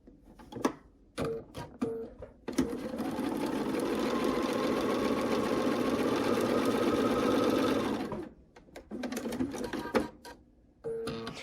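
Sewing machine chain piecing quilt pieces, a long steady whirring run of stitching framed by short stop-start bursts and clicks before and after.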